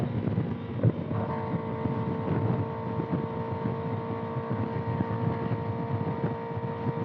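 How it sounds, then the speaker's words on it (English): Strong wind buffets the rider on a loud 2025 Kawasaki ZX-6R motorcycle, a steady broadband roar of wind noise over the engine's low drone, continuous and unbroken throughout. "It's so windy."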